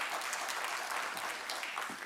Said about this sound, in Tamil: உண்மையிலே அவரையும் எல்லோரும் பலத்த கரகோஷம் எழுப்பி வரும்படி கேட்கிறேன்.